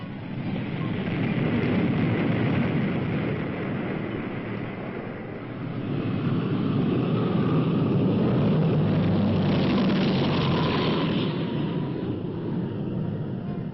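Transport aircraft landing at Vadati Air Base produce a loud, steady engine roar and rumble that swells and dips slightly across the span, with no voices over it.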